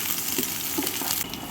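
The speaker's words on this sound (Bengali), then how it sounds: "পেঁয়াজটাকে একটু লাল লাল করে ভেজে নেব।" Chopped onion, tomato and green chillies sizzling in hot oil in a pan for Bengali prawn bhuna, a steady, close, soft hiss with faint crackles.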